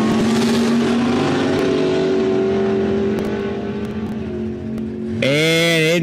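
A 1969 427 Camaro and a 1965 Chevelle run a drag race at an airfield strip, engines roaring loud with a rising, sustained note, then a sharp revving surge near the end.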